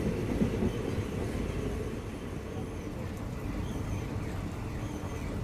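Nautanwa Durg Express train running toward Gorakhpur, a steady low rumble of rolling coaches with faint rail clatter, continuous and close throughout without talk.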